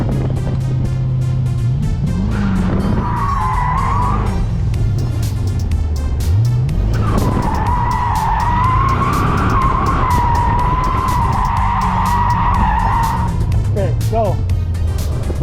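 A twin turbo Callaway Corvette drifts with tires skidding in long, loud squeals that swell and fade over a roaring engine, recorded close from inside the car as voices speak throughout.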